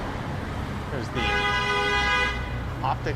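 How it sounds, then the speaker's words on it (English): A car horn honks in downtown Toronto evening traffic on Jarvis Street, one sustained blast of about a second amid the rumble of passing vehicles, with brief voices around it. "someone honking away."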